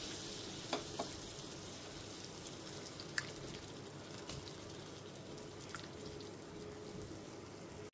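Steady frying sizzle from a cauliflower curry pan as hot water goes in, with a few soft drips and clicks over an even hiss and no voices.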